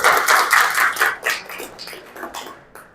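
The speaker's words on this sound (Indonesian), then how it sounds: "tepuk tangan untuk Paskibra." Applause for a Paskibra flag-raising squad at a training session, a burst of loud, close clapping from a group that thins out and fades over a few seconds.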